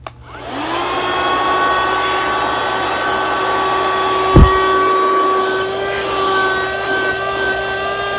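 An ionvac Power Max portable vacuum cleaner switches on and runs, a steady high-pitched whining motor tone with an airy rush, close and loud, with one brief bump partway through.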